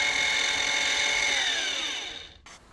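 Electric motor of a Vevor HD10 welding positioner spinning steadily with a smooth tonal whine, then slowing and winding down near the end, followed by a brief faint click.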